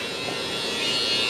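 Steady close-up buzz of an electric hair trimmer held near the head while shaping a lineup, continuous and fairly loud with no talking.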